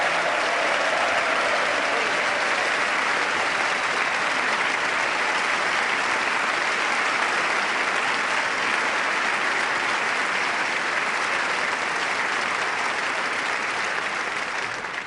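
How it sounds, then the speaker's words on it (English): Sustained wild applause in Congress from a large chamber crowd, dense steady clapping that stays loud and even throughout, with no voices standing out. "Wild applause in Congress."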